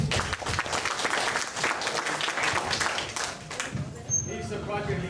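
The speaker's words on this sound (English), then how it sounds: "let's give them a warm applause for their presentation" Audience applause for a student project presentation, a dense, steady clatter of many hands clapping throughout, with murmured voices mixed in and a brief whistle-like tone near the end.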